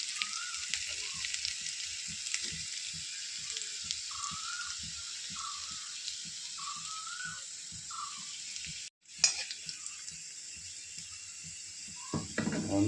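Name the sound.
dried red chili and ginger frying in oil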